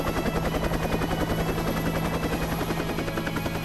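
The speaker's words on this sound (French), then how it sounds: "Oh mon Dieu, un hélicoptère." A helicopter's rotor beats out a rapid, steady chop throughout as a sound effect in an audio drama, moderately loud and with no voices.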